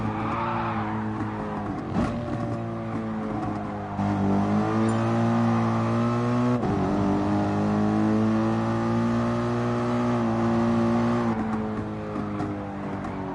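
Gr.3 race car engine at full throttle on a hot lap around Suzuka in GT Sport, a loud, steady drone with rising and falling pitch through gear changes and corners, alone without talk.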